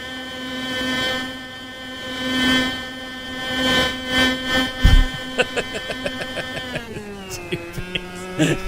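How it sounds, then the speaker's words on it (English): Race car engine in the Automobilista 2 racing video game, a steady high-pitched harmonic whine that holds, then bursts into rapid gear-shift and rev stabs before dropping in pitch as the car slows, loud and alone. "Stupid engine sound."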